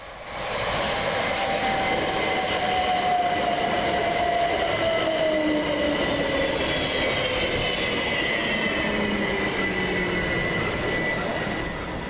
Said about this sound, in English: Next train in for Southern is 377411, with the 1312 Southern service from Brighton to Portsmouth and Southsea.